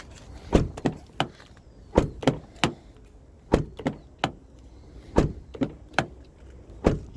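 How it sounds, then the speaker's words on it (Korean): A Hyundai Palisade's car door is shut over and over, roughly a dozen crisp, close thumps at irregular intervals with quiet pauses between them. "이게 팰리세이드 닫을 때의 소리입니다."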